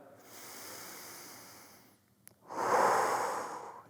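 Slow, controlled exhale through the mouth during a mobility exercise, a soft steady breath that fades, then a short pause and a louder, fuller breath close to the mic.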